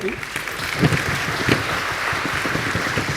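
Applause from a forum audience welcoming a climate scientist, a steady, fairly loud rush of clapping with a few voices mixed in.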